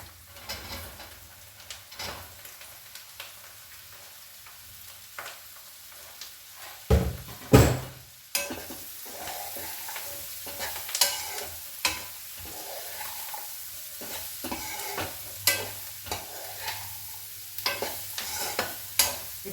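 Ridge gourd pieces frying in oil and being stirred, a steady soft sizzle with repeated close scraping and clanking of the spoon against the pan, a louder knock partway through.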